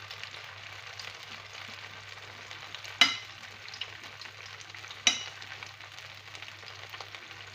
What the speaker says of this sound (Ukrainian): А зараз приступаємо до жарки кабачкових смаколиків